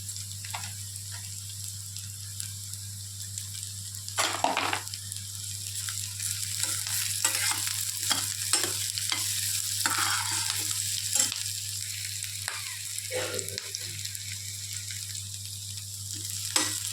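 Cashews, coriander and mint frying in ghee, a low, constant sizzle with scattered spatula taps and stirring scrapes, fairly quiet and close, with no one speaking.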